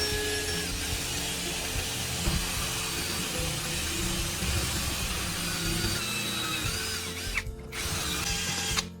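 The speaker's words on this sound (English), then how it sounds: "Then drill a small hole in the top area so we can rinse the inside." A power drill whirs steadily into the top of an empty spray paint can, a continuous grinding buzz running for several seconds before a brief pause and restart.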